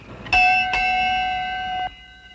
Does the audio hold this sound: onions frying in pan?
no